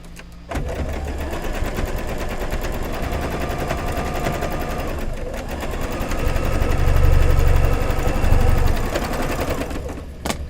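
A sewing machine runs steadily through a quilt block, its fast rattling stitch continuous and close for about ten seconds, swelling louder toward the end before stopping.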